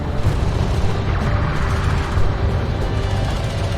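Railgun fire and explosions in the sci-fi strategy game Homeworld: Deserts of Kharak, a dense, loud, continuous battle rumble with heavy low booms rolling under it.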